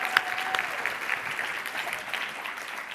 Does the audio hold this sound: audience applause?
yes